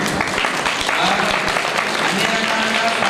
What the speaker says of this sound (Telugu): పిల్లలు గట్టిగా చప్పట్లు.